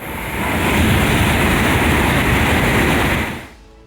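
A Shinkansen bullet train travelling out of Tokyo gives a loud, steady broadband roar that rushes in, holds for a few seconds and then drops away abruptly.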